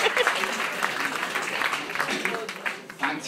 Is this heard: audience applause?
yes